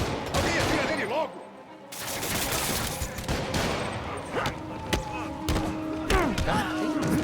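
Gunfire in the video game Marvel's Spider-Man Remastered comes in rapid bursts and single cracks, mixed with scuffling action sounds and dubbed voices talking.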